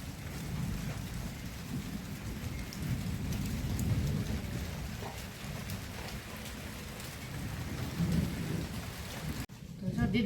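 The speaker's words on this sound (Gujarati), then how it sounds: "દીદીને ખબર હોય કે આ વીજળી થાય એટલે આગળ કડાકો થાય," Heavy rain pours steadily through a strong, unseasonal thunderstorm with gusting wind, while low rolls of thunder rumble beneath the constant hiss of the downpour.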